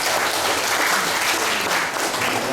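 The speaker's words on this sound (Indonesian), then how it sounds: "Kita beri aplaus untuk yang mendampingi Pak Bambang" Dense, sustained applause from an audience at a doctoral promotion ceremony at Universitas Diponegoro, honoring those who accompanied the candidate. It holds steady and fills the clip with no voices over it.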